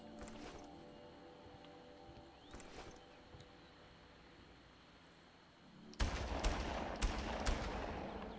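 Scattered gunshots in the video game Far Cry, at first faint and sparse against a humming background, then a louder burst of repeated shots near the end.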